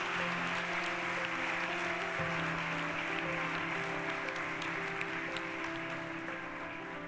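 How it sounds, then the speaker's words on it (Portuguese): A church congregation applauds in a continuous wash of clapping, with steady sustained musical tones running underneath throughout. "Você pode dar um aplauso"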